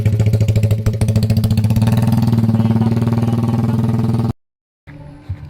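A motorcycle engine idles loudly up close with a fast, steady putter, then cuts out abruptly before faint noise returns.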